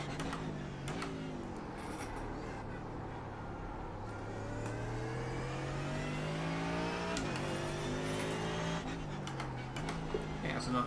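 Race car engines howl at Brands Hatch in iRacing, with the pitch climbing steadily through the gears and dropping at shifts while another car's engine overlaps close by, all at a fairly even, moderate level.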